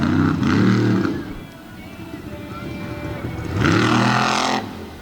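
Monster truck engine roaring loudly during a freestyle run at a monster truck show in Lima, Ohio, with two big revving surges separated by a lower steady drone and crowd or arena noise in between.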